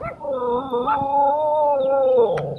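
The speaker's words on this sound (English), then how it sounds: "Laziest dog in Thailand." A dog whimpers in a long, high, wavering whine that bends up and down in pitch for nearly three seconds, close and fairly loud, with a brief yip near the end.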